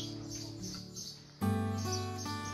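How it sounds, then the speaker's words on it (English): Birds chirp and tweet in a peaceful outdoor garden at a riad guesthouse in Chefchaouen, Morocco, steady close calls over a soft background, with a louder burst of song partway through. "Eating in the peaceful outdoor garden of Dar Daddy Silif while listening to the chirping of birds was a lovely experience."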